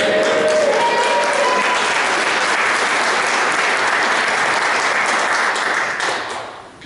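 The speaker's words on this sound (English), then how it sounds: "Could you hear that applause, Dave?" Loud, steady applause from a meeting audience fills the room, dense clapping holding evenly for several seconds before tapering off at the end.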